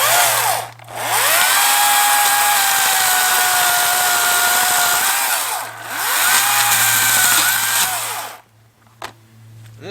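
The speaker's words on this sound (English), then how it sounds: "This chainsaw here, used it before, it's battery operated." A battery-operated chainsaw cuts wood at a bushcraft campsite, a loud high whine in two long sustained cuts with short pauses between, then the motor winds down to near silence.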